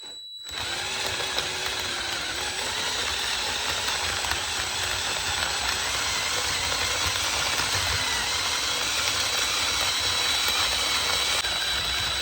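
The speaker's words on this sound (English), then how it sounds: "Take my drill, attach it to my pepper mill." An electric drill turns a pepper mill at slow speed to grind pepper for a beef brisket rub, giving a steady, unbroken whirring hum that runs close and loud for about twelve seconds.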